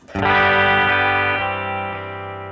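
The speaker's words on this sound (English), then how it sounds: "That's real spring reverb." A Fender Princeton guitar amp with real spring reverb sounds one strummed chord, loud and close, ringing out with a long shimmering reverb tail that slowly fades.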